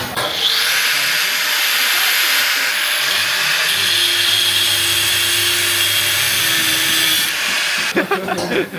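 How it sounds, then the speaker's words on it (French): Angle grinder grinding metal in a workshop during trade training, a loud steady high-pitched whine with hissing sparks that runs almost the whole time and breaks off near the end, with faint voices underneath. "On va meuler aussi, on va prendre une pause disqueuse"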